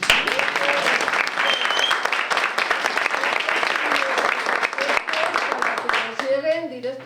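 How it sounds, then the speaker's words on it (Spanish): Applause from an audience at a Spanish storytelling and culture event honors Inmaculada Molinero, dense steady clapping filling the room nearly throughout, with voices faintly audible underneath and a voice emerging near the end. "Un aplauso para Inmaculada Molinero"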